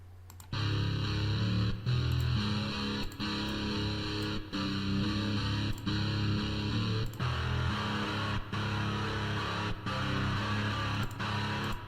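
A distorted, sustained electric guitar chord rings with a reverberant wash, struck again every second or so with brief clicky gaps between strums.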